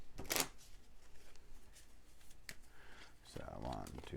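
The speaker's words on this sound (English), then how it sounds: "You'll shuffle up this deck" A deck of board game cards is shuffled, giving a quick papery riffle burst near the start and a few scattered card flicks. Muffled voices run faintly underneath and a short spoken phrase comes near the end.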